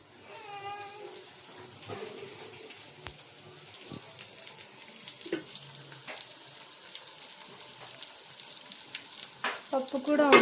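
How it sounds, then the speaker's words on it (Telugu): Potatoes, tomatoes and onions frying in oil in a home kitchen pan, a steady soft sizzle with occasional clinks and stirring knocks, growing louder near the end. "టమోటాలు అలాగే ఆనియన్స్ బాగా మగ్గిన తర్వాత ఆలు వేసుకొని ఆయిల్లో బాగా మంచిగా మగ్గనించుకోవాలి"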